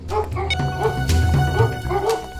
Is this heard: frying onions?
no